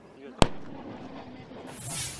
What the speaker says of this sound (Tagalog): Sa hudyat ng mga sundalo, sunod-sunod na binomba ng mga kanyon ng target.